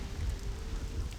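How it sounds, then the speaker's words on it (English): Steady rainfall in the Black Desert game world, a dense soft hiss of drops with low rumble underneath, continuous and fairly quiet, no voices. "the rain effects are pretty good in the game"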